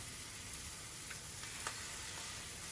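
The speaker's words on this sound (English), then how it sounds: "It hits the surface with a soft, satisfying sizzle." An egg fries in oil in a pan, giving a steady, close hiss of sizzling with faint crackles and pops and no talking.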